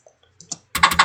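A few soft, sparse clicks give way to a quick burst of louder key presses on a computer keyboard, close up and without any voice.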